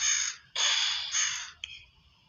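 A crow caws three times, harsh, loud and fairly close, with the calls running almost together and a faint background hum.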